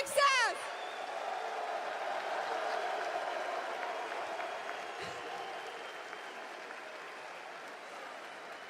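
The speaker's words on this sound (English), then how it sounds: "un tonnerre d'applaudissements pour vos champions" Arena crowd at La Défense Arena applauding the champions after an esports Major final, a broad sustained wash of clapping and cheering beneath a faint announcer voice.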